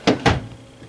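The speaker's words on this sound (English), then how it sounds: "these have the pull-out drawers" Two quick wooden thuds as a pull-out cabinet drawer in the kitchen of a 2019 Coachmen Leprechaun 240 FSC RV slides and knocks, close and brief, followed by quiet room tone.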